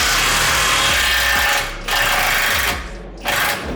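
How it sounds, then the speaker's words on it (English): An impact wrench works a 21 millimeter nut in three close, loud, rattling bursts, with short pauses between them. "you're gonna need an impact that has a good amount of power to it"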